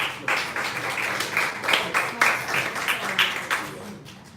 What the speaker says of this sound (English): give your kids your hand clap